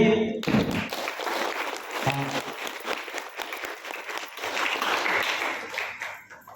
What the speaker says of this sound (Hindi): एक बार ताली ठोक के बजाइए।